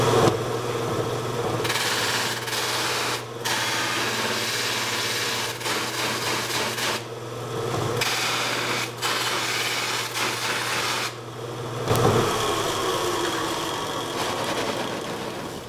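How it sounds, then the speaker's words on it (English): A buffing wheel mounted on a woodturning lathe runs with a steady loud motor whine and grinding rub, broken by several brief dips and surges as a piece is pressed against it, with no talk over it. "hold it against the buffing wheel like that. Now as I go along here, this is going to make a ruckus, a really loud noise"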